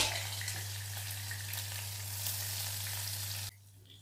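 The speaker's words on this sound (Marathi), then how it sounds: "तेल तापून घेतलं आहे। त्यात टाकते जिरे, आला लसूण, मिरची," Cumin, ginger-garlic paste and chili sizzle loudly in hot oil, a continuous close frying hiss over a low steady hum that cuts off sharply near the end.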